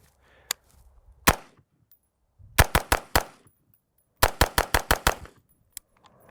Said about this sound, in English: See if we can start putting some major rounds on target here.